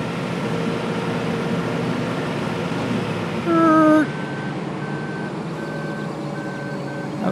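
Truck reversing beeps in the Farming Simulator 2013 video game, a steady beeping repeating at regular intervals over a constant engine drone, with no talking.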